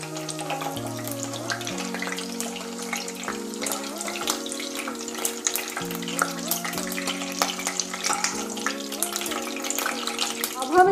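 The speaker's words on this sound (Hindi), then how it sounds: "अब हम इसमें गाजर को भी फ्राई कर लेंगे।" Vegetables fry in a pan in a home kitchen for a mix veg recipe, giving a continuous crackling sizzle throughout over steady background music.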